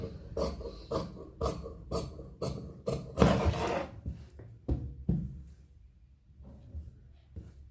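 Scissors snip through blouse sleeve fabric in a steady series of close, crisp cuts, followed by a longer rustling slide of cloth and a few sparser snips as the cutting slows.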